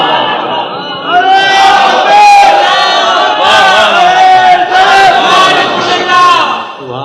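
A large crowd chants slogans together at a religious gathering, loud massed voices rising in rhythmic waves over several seconds.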